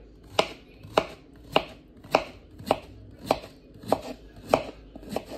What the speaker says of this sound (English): I love cutting the cucumbers like this